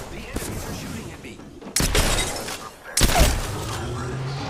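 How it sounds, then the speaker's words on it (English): Enemy gunfire in a shooter video game, two sudden loud bursts of rapid shots with crashing impacts, separated by quieter stretches, with a player talking. "The enemies are shooting at me."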